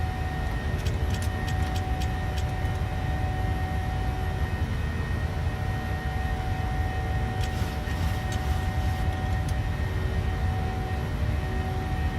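A PMDG 737-700 in Microsoft Flight Simulator with its engines at climb power makes a loud, steady roar and rumble throughout, with a few brief clicks and no talking.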